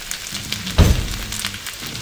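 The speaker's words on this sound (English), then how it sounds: "I like to flatten it out and then just let it sit for a bit so it gets a little bit crispy on the bottom." Fried rice sizzling in a pan, left flat to crisp on the bottom: a steady close crackling hiss throughout, with a brief louder burst of frying about midway.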